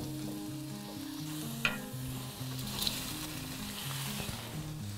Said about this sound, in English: Let's add the squid.